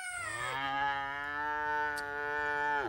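A single long cow moo used as a sound effect, a loud, drawn-out lowing of nearly three seconds with a rich harmonic tone, heard alone without talk.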